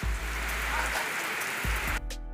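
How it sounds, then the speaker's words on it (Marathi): Light rain patters steadily on a surface outdoors during a Krishna Janmashtami festival outing, a dense continuous hiss with a couple of low thumps and a brief break near the end. "थोडा थोडा पाऊस पडतो"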